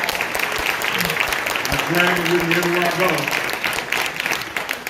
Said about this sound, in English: Y'all give Nick a round of applause.